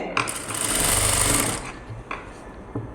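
A sewing machine makes a short burst of stitching on the lining of a blouse neck, close and brief, followed by quieter handling sounds.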